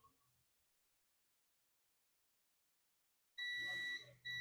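Steady electronic beeping from a shorted capacitor on a Dell Latitude E5250 laptop logic board, a single sustained tone arriving near the end after near silence, fairly loud and close.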